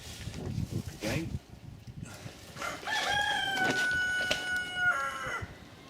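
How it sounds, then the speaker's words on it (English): A cockerel crows once, a long, loud, ringing cock-a-doodle-doo close by, following a few seconds of someone talking over quiet background noise. "Excuse the cockerel."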